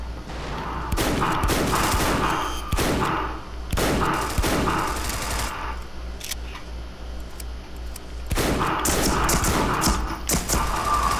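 Several loud bursts of automatic gunfire in the video game America's Army: Proving Grounds rattle out in sharp clusters, separated by brief quieter gaps, close and forceful.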